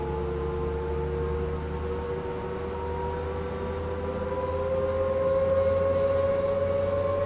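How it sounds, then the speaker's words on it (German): Train engine accelerating under full throttle in the Train Sim World 5 video game, a steady drone with rising tonal whine that grows slightly louder, no talking. "Klingt, als hätten wir hier Dieselmotor."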